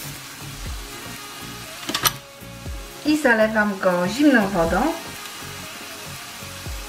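Vegetables sizzle and crackle steadily in a hot frying pan while a person speaks over it, with a couple of sharp clatters early on.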